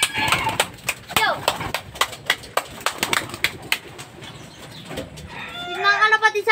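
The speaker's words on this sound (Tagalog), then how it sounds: "Yung mga kalapatids ang ating mga ibon." Pigeons in a backyard loft make soft cooing and fluttering sounds, with sharp wing claps and rustling near the mic, building to a brief burst of calls at the end while a person talks over them.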